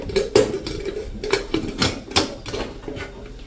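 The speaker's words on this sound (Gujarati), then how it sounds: "તો હવે આપણે આને કુકરનું ઢાંકણું બંધ કરીને" A metal pressure cooker lid is fitted and closed over a pot of dal dhokli, producing a series of close, sharp metallic clanks and scrapes in an uneven rhythm.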